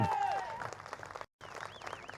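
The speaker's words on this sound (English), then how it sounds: "And a big cheer from the crowd there, Mike." At an international supreme sheepdog trial final, a crowd applauds and cheers in a brief scattered burst, moderately distant, with whistled commands and a commentator talking over it.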